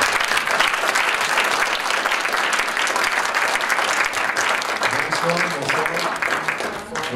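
A church congregation at MIRR Nantes applauds to welcome a pastor, a dense and steady roomful of clapping that holds loudly for several seconds before easing slightly at the end.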